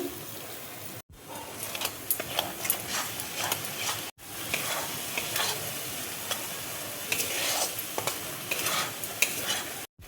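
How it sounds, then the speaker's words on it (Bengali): Spice paste with tomato being stir-fried in a pan for a jackfruit curry, with frequent close scraping stirs over a moderate sizzle and two brief silent gaps. "মশলাটা দেখো কষানো হয়ে গেছে।"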